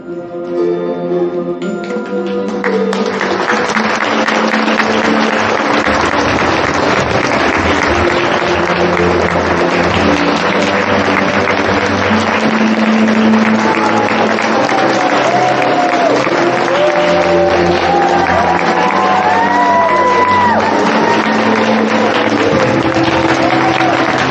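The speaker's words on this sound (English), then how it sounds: "How about one more big round of applause?" An audience applauds after a juniors theatre performance of The Snow Queen, with loud, steady and sustained clapping from a full house. A few faint whoops rise over it toward the end.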